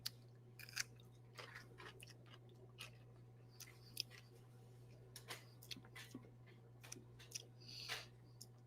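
Crunchy sour pickles being chewed: faint, close crisp crunches and wet bites in an irregular rhythm over a steady low hum, with no talk.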